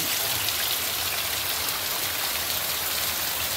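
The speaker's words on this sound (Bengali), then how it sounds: "দেখতেই পাচ্ছ এত বৃষ্টি, দেখো প্রচুর বৃষ্টি।" Heavy rain pours down steadily, a dense, even hiss of drops on surfaces with no pauses, loud and close.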